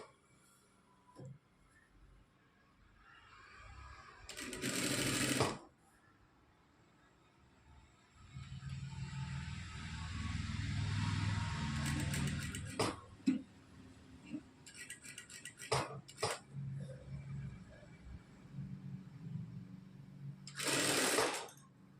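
A sewing machine stitching a small pleat on a blouse, running in several bursts, a longer buzzing stretch mid-way and short stop-start runs, close and moderately loud with quiet gaps between.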